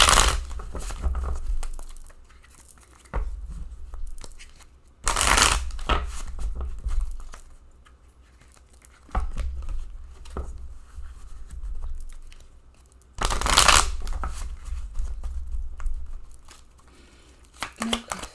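Tarot cards are shuffled in repeated bursts of crisp riffling and papery flutter, close and fairly loud, with brief pauses between each shuffle and no talking.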